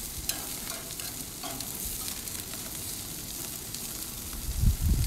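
Chicken sears on a hot grill, a steady soft sizzle and crackle heard up close, with a low thump and rumble near the end.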